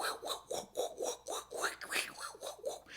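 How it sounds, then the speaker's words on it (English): Muted guitar strings scraped by fingers through a wah pedal, giving a rough rhythmic rasp that pulses in repeated sweeping swells for the whole stretch, fairly close and steady without a voice over it. "they're muting all the strings with their fingers and just scraping on them"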